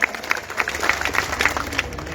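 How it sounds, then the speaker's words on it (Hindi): A mushaira poetry-recital audience claps in a scattered burst, with sharp individual hand-claps standing out over a softer crowd wash, fairly close and without talking. "आप संजीदगी के साथ मुझे एक बार जोरदार ताली बजा करके उस नज्म के लिए माहौल दें"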